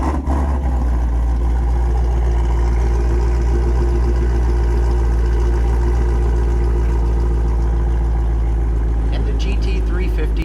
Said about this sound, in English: I wanted to give you a quick listen to what this startup is like.